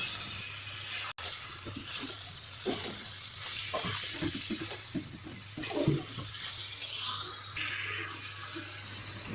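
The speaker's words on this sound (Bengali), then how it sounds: "এখন ভেজে রাখা কুমড়োগুলো দিয়ে দেব, দিয়ে ভালোভাবে নাড়াচাড়া করে নেব।" Fried ash gourd pieces are stirred into a simmering duck curry in a pan, giving a steady bubbling sizzle with scattered scraping and stirring sounds, close and moderately loud, with no speech.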